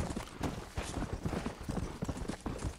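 Horse hooves clip-clop at a steady walking rhythm in the Red Dead Redemption video game, close and fairly loud, with no other sounds.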